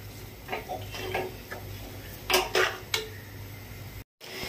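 Utensil mixing mashed red pumpkin with jaggery in a pot, giving soft scraping strokes and a few sharper close taps against the pot, fairly quiet.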